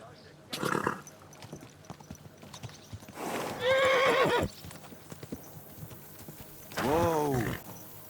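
Horse in the game Kingdom Come Deliverance 2 gives two clear whinnies over soft clip-clop hoof steps, with a voice talking calmly between them.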